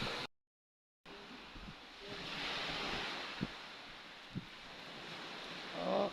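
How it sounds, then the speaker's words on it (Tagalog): Ocean waves breaking on the shore at a quiet resort, a steady rushing surf with wind noise on the microphone, after a brief dropout at the start, with a couple of soft thumps. "Wala kang marinig kundi hampas ng alon sa karagatan."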